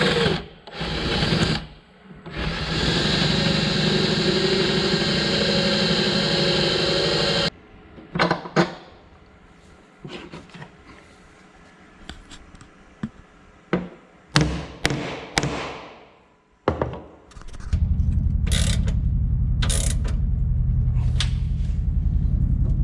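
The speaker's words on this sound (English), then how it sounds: "let's get this last hole drilled and bolted down, and we can be done" A drill bores a hole and a bolt is driven down to secure a new wooden frame cover on a Loadstar truck. A long, steady whine runs first, then scattered clunks and taps follow, and a low, continuous rumble closes the clip.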